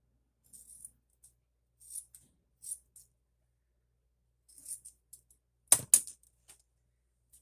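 Scissors snip a small piece off the bottom edge of a lace trim used for envelope crafting, giving several soft, quiet clicks and then two sharper, louder snips close by near the end, with no talking.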